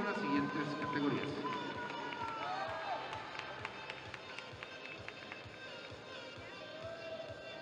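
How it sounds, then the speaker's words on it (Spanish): Sustained applause from the audience at the NABBA Mr Mexico & Ms Fitness 2022 bodybuilding contest, a dense steady patter of clapping in a large hall, with voices heard over it. "los despedimos con un fuerte aplauso"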